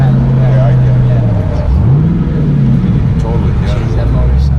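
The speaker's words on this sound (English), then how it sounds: "that motor sounds so good" Twin-turbo 1969 Camaro V8 engine droning and revving loudly from inside the car on a ride along, a steady deep rumble with pitch rising and falling as it accelerates, with people talking over it.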